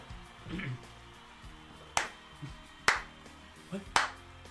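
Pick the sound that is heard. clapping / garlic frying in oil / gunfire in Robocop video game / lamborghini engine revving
clapping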